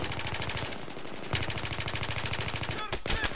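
Rapid automatic gunfire from an F2000 rifle in Battlefield 3 multiplayer, a steady loud stream of rattling shots that breaks off briefly and resumes.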